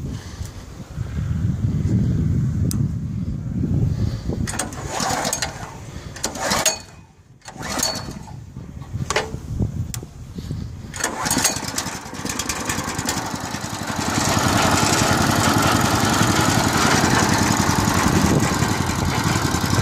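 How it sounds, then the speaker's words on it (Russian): An Agronom MB-800 walk-behind tractor engine is pulled and coughs through several attempts, sputtering and dropping out briefly, then catches and settles into a loud, steady close-up running drone. "Сейчас попробуем завести, покажу, как он заводится"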